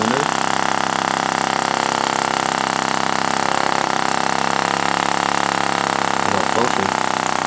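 A small homemade flame sucker vacuum engine, built by a twelve-year-old and lubricated with graphite, runs with a steady rapid mechanical chatter close by, with people talking over it.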